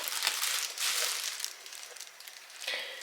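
A plastic package bag crinkles and crackles during unboxing, close and fairly quiet, in a few irregular bursts of rustling.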